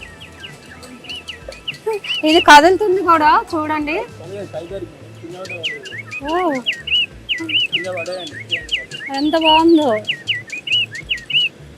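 A battery-powered toy bird at an exhibition stall gives repeated bright, high chirps and whistles in quick bursts, while people talk close by over the chirping.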